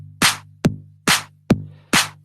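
A programmed drum pattern built in BandLab gives five evenly spaced hits in a steady rhythm over a low, sustained bass tone, with crisp clap sounds among the beats, clean and loud with no voices.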